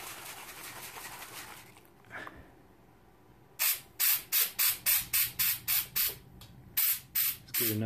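Citristrip paint stripper sprayed onto a 1980 Lesney Matchbox articulated toy truck: after a quiet stretch, about eleven short, close, sharp trigger-spray bursts come in a fairly even rhythm with no talk.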